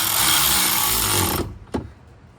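Power tool tightening fasteners on a light bar mount of a Polaris RZR Turbo S: a loud, steady whirring burst that cuts off abruptly, followed by one short sharp clack.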